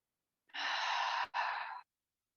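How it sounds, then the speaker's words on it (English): A deep breath is drawn in during a gentle yoga session, a single close, soft, airy inhale lasting over a second with a tiny break near the end, set against near silence. "let's take a deep breath in"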